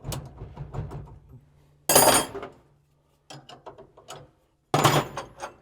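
A ratchet wrench being worked on steering and brake parts of a C50, short bursts of rapid clicking separated by pauses, close and fairly loud.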